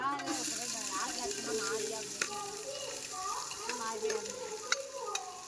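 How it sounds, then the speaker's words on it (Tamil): Onions sautéing in a pan for a New Year biryani make a constant sizzle with intermittent stirring scrapes and clinks, while people's voices chatter in the background throughout. "வெங்காயம் நல்ல ப்ரௌன் கலர் வர்ற மாதிரி நல்ல வதக்கணும்"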